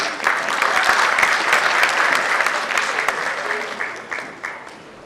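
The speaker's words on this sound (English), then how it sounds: "Please welcome her with applauding hands," An audience claps to welcome a speaker onto the stage at the Glocal Teen Hero 2017 event, dense sustained applause that swells early, then thins and fades toward the end with a few scattered late claps.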